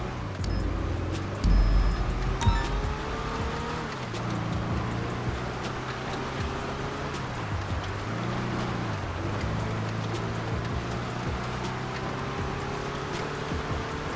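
A van driven in GTA Online, its steady engine drone running continuously with shifting tones as it changes speed, no talking over it.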